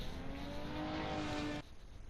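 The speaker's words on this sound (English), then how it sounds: "It sounded like a Lamborghini. It sounded like a V10." Distant V10 engine of a Lamborghini in a Nürburgring racing video game, a steady droning hum with a rising whine that cuts off abruptly near the end.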